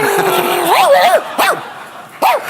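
A woman imitates a dog on a television talk show, giving a few sharp vocal barks and yips close to the microphone, each bark separated by short pauses.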